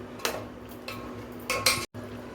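Mustard oil being worked into paneer roll dough in a bowl, a spoon clinking and scraping against the sides in a few brief bursts, close and fairly quiet with no talk.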